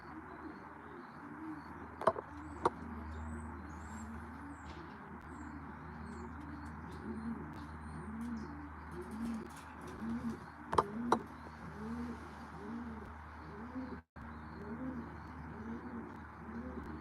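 Racing pigeons cooing continuously around the loft, a soft layered chorus of rolling coos with occasional chirps and a couple of sharp clicks, steady and moderately near.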